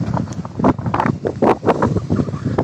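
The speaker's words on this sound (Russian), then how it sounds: "сильный ветер" Strong gusty wind buffets the microphone, a loud, uneven rumble with choppy bursts throughout.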